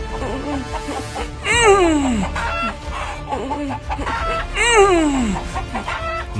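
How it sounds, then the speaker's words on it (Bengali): Cartoon chickens cluck and squawk in bursts, with two loud rising-falling crow-like cries standing out close up amid continuous fowl noise. "এক একটা মুরগিকে ধরে মেরে ফেলতে লাগলো"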